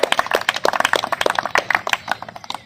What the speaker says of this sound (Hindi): एक बार फिर जोरदार तालियां इनके लिए